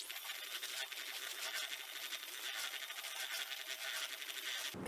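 A wet coconut flour lemon batter is mixed by hand in a bowl, giving a continuous close squelching, scraping swish with a quick clunk at the very end.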